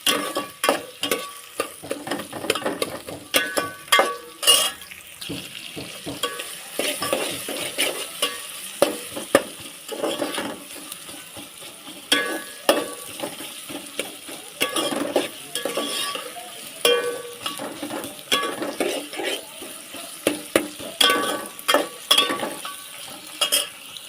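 Onion and curry leaves sautéing in a pan on the stove, with a continuous sizzle under frequent scraping and clattering strokes of a spoon stirring against the pan.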